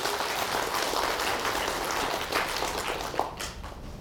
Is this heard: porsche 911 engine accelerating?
no